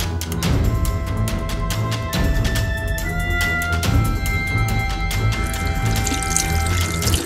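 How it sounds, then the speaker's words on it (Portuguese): A woman urinates into a pot of water and bleach: liquid splashes and trickles steadily, a continuous pouring stream with some ringing, close and fairly loud throughout. "Mija dentro desse pote com água sanitária."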